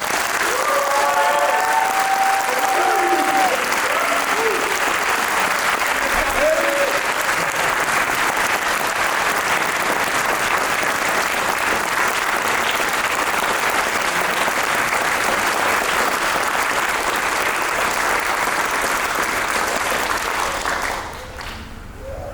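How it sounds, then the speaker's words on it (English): Prolonged applause for retirees at an Eighth Army military retirement ceremony, a large audience clapping loudly and evenly for about twenty seconds with some faint voices mixed in before it quickly dies away. "Please give a round of applause for all of our retirees."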